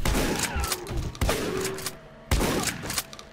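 Heavy shotgun blasts in a Doom 2 Stalker mod game, three or four booming shots spaced about a second apart, loud and close, each trailing off into a brief echo.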